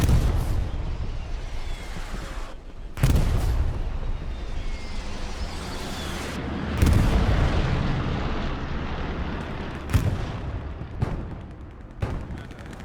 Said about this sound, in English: But they are starting to call in some good, accurate fire with their artillery.